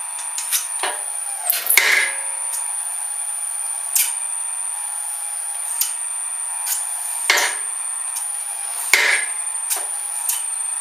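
A DP120 power hammer runs with a steady whine and hum, its noise resonating through a steel box-section frame, broken by sharp metallic clanks and taps at irregular intervals, fairly close, with no speech.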